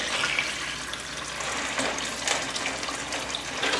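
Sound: pouring water onto ice

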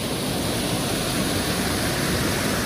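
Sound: waterfall in Luxembourg

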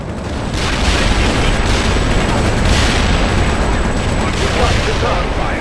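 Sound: gunfire in a war film

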